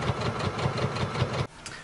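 A home sewing machine stitching fabric pieces runs in a quick, steady mechanical whir with regular pulses, loud and close, then stops abruptly just before the end.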